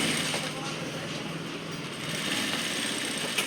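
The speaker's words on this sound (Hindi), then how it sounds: "तो इस तरह से आपको सिलाई मारते हुए आगे बढ़ना है।" A sewing machine stitching a collar onto a shirt gives a continuous faint mechanical whirr and rattle, running steadily throughout at a low level with slight swells.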